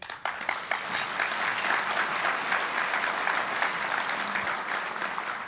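Audience applause at a port alliance annual breakfast, a steady, dense clapping from a large seated crowd that keeps the same level throughout.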